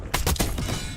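Gunfire in a video game: a quick, loud burst of two or three sharp shots in close succession, then a ringing tail that fades.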